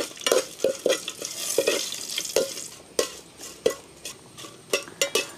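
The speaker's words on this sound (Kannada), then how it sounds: "ಉದ್ದಿನಬೇಳೆ ಮೆಣಸೆಲ್ಲ ಹುರಿದಾಯ್ತು ನೋಡಿ." Urad dal and a handful of peppers fry in oil in a pan, crackling and sizzling under repeated sharp scrapes and clinks of a ladle stirring against the metal, close and lively with no talk.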